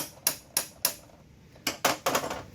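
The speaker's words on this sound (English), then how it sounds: "Tap it in there a little bit. You know, you can use your hammer and it'll spiral down in there some." Sharp metallic hammer taps strike a drill bit being driven into a dowel pin in an engine crankcase: three evenly spaced blows, a pause, then a quicker cluster of four, all close and crisp.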